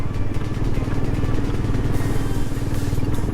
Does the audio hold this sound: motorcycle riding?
yes